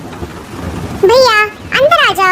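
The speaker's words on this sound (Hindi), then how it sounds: "जंगल में अभी बारिश हो रही है।" Steady rain with a low rumble of thunder underneath, while a child calls out loudly over the downpour.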